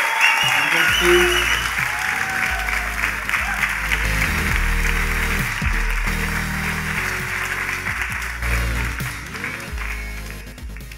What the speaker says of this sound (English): Please welcome, with a big round of applause, Menno!